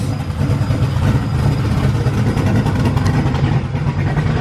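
A freshly built V8 engine in a Ford Crown Victoria runs at a loud, steady idle, a deep throbbing rumble with a slight lope, close up and continuous.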